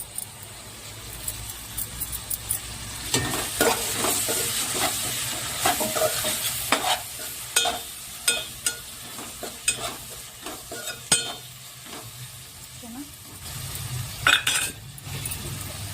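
Dried prawns frying in oil crackle and sizzle throughout while a utensil stirs them, with repeated scraping strokes and metallic clinks against the pan at an uneven pace.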